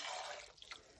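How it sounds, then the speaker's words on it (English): Water poured into a pot of seared meat and celery for a lima bean stew, a brief soft splash and trickle lasting about a second, fairly quiet and with no voices. "we're going to add 2 cups of water"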